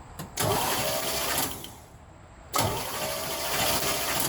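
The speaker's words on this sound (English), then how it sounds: "With the new battery installed, let's see if it'll crank." The engine of a 1976 Chevy C10, fitted with a new battery, cranks in two loud bursts of whirring starter noise with a short lull between them, close up.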